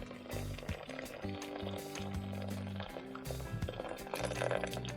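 About one and a half litres of water poured into a large soup pot for a Mexican-style minced-meat soup. The splashing, gurgling flow runs steadily throughout, fairly quiet, with no one speaking.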